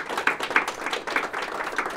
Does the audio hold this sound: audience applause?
yes